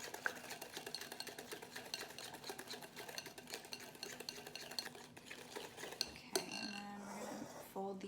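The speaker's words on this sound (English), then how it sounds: "Fold these in, fold this into the dry ingredients" Wet ingredients, including eggs with one yolk-only, are folded into dry brownie batter in a bowl, giving a steady soft scraping and stirring texture, then a brief humming tone near the end.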